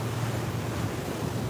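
Steady wind noise buffets the microphone over a continuous wash of choppy water aboard a Moon 60 power catamaran heading into a west wind toward central London, loud and unbroken throughout, with no voices.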